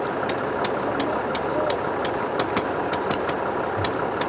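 An American Massey Ferguson 97 vintage tractor runs at a hay and harvest show, a steady mid-pitched engine drone with regular sharp ticking beats, while a voice talks over it.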